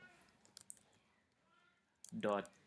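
Someone types on a computer keyboard: a few scattered quiet key clicks, then a short louder burst of keystrokes near the end, over low background hiss.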